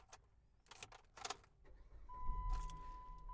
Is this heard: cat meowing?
no